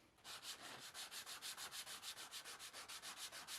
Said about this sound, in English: This is the last piece that I have to sand with this sanding block.